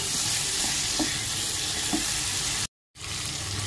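Fried chicken pieces are stirred in a pan for an Assamese chicken curry, a dense continuous sizzle with soft scraping stirs, cutting to a brief silence before the frying resumes.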